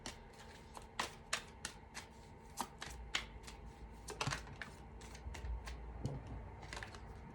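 A tarot deck being shuffled produces soft, irregular card flicks and taps at close range, spaced through a quiet room with a low steady hum underneath and no speech.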